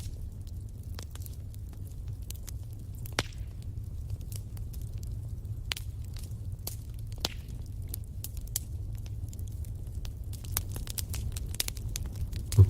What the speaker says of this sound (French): Vous écoutez le bois craquer.